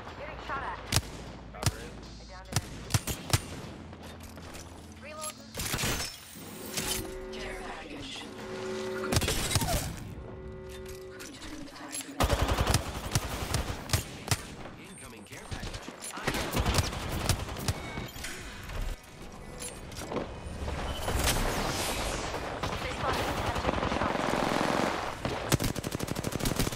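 Gunfire during an Apex Legends-style Pathfinder match: loud bursts of automatic fire and rapid shots, dense and continuous with brief pauses, mixed with game effects and a voice talking in the background.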